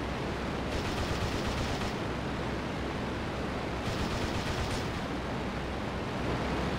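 Sustained aircraft machine gun fire from the flight game Rise of Flight, a loud dense rattle running unbroken from start to finish, with two brighter bursts standing out over the steady roar.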